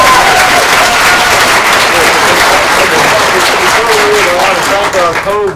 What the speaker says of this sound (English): please give the biggest round of applause